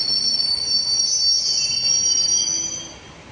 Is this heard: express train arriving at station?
yes